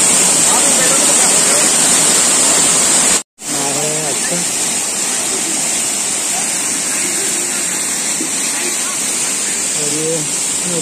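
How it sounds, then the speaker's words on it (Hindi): Rushing water pours steadily downward at Markondeswar temple near Abu Road, a loud continuous roar filling the whole stretch, with a brief dropout early on and faint talk beneath. "ये सारे देखे वाटर का साउंड आता होगा आपको जरूर, पानी कितना तेज कितना है और ये नीचे जाता है।"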